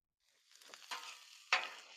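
Chopped onions, zucchini and yellow squash hit a hot Blackstone griddle, giving a close, bright sizzle with a couple of sharp crackling surges as the vegetables settle and fry.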